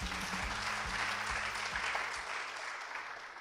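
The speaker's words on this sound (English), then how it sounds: "Kindly let's applaud them with a clap." Audience at a school debate final clapping for supporters, a steady mass of hand claps with a few lower thumps early on, easing off slightly toward the end.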